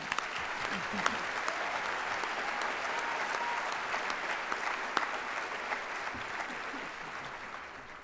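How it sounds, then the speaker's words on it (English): Audience at a charity breakfast giving Mick a round of applause, a dense, even roar of many clapping hands held steadily throughout, with faint voices mixed into the crowd. "So can we just hear a round of applause for Mick once again?"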